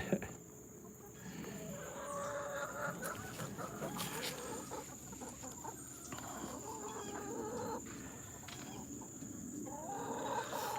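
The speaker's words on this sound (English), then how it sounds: "We have 10 chickens currently." A flock of ten chickens clucks continuously at close range, with soft bursts and calls over a faint outdoor hum.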